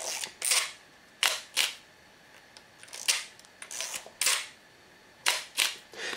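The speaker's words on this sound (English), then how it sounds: "as you wind each one you'll see that it advances one frame" Zenit E 35mm film camera being wound on and fired repeatedly, each frame giving a close, crisp ratchet of the film advance and a sharp mechanical shutter clack, spaced roughly a second apart in a quiet room.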